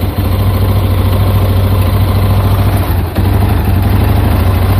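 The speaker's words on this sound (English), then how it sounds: "There's a metallic noise that comes from the engine" A Yamaha Tri-Moto engine idles loudly and close, with a faint metallic tinging riding over the rumble; a brief dip near the end.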